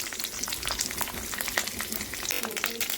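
Onion paste frying in oil in a kadai with cinnamon, cloves and curry leaves gives a loud, close, crackling sizzle that runs continuously, with sharp spattering pops scattered throughout.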